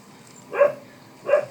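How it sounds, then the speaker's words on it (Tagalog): Two short, fairly loud dog barks spaced under a second apart, from a dog in the shooter game Titanite, heard alone against a faint background. "May aso dito."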